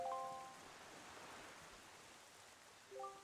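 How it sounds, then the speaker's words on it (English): Steady rain falls on Jabun island in the video game Zelda Wind Waker, a faint, even hiss with brief musical chimes at the start and end. "this place suffers under dark clouds and rain"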